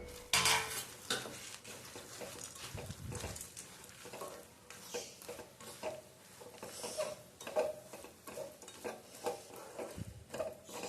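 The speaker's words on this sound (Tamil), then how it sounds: "வெள்ளமும் பொட்டுக்கடலையும் நல்லா மிக்ஸ் ஆகணும்" A wooden spoon mixes roasted gram and jaggery in a pan, with faint, irregular scraping and light clinks of the utensil against the pan, close but quiet.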